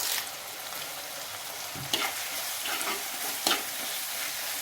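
Ivy gourd sautéing in a pan with curry leaves, a soft steady sizzle with a few spatula scrapes and clicks as it is stirred, fairly quiet and close.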